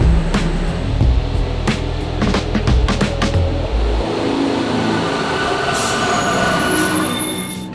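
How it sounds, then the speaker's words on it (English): Subway train in Santiago, Chile rumbles along the rails with heavy low-end roar, repeated clacks over track joints and wheel squeal, then the rumble drops away as the car slows, leaving a higher whine and hiss. "just short of 20 minutes on the subway"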